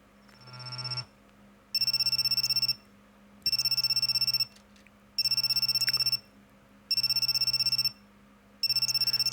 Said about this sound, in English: my cell phone suddenly rang.